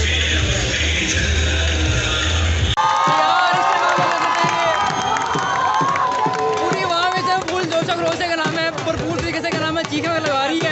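A large crowd at the Wagah border ceremony roars and cheers loudly, with shouting, whistling and excited chatter rising and falling throughout, after a brief burst of muffled noise at the start.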